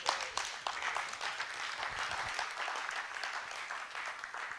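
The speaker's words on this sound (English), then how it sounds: "Please, a round of applause for him again." A modest audience claps at a conference session on addressing inequalities through SDG localization, a fairly faint, uneven patter of hands with some louder individual claps, lasting a few seconds.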